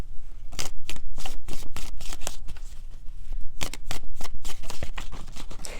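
A deck of tarot cards is shuffled by hand on a table, giving close, rapid bursts of riffling and flicking in quick repeated rhythm, with no talk over it.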